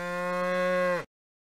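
A single long, tonal moo from a cow in the 1995 PC game Nikolai's Trains, loud and close, ending abruptly.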